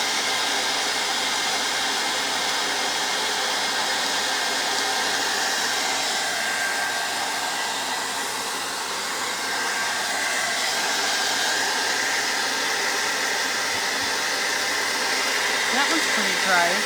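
A hair dryer blows continuously and loudly at close range to dry faux rice paper on plastic and other surfaces, a steady broadband whoosh with no break.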